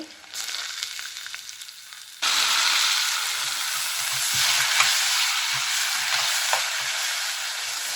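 Onion, ginger and garlic hit hot oil for wheat rava kichdi: a quiet pan bursts into a loud, steady sizzle that continues with occasional stirring scrapes.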